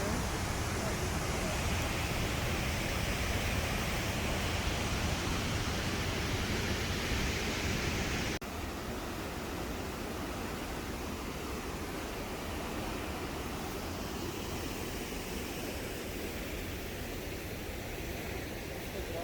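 A Yellowstone waterfall roars up close in a dense, hissing wash of falling water that dips slightly in level partway through and then continues unbroken.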